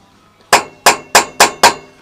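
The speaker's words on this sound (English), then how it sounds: "Now, a quick slap with the hammer" A hammer strikes hot motorbike header bolts five times in an even rhythm, each blow a sharp, loud metallic clank that rings briefly, close up and alone.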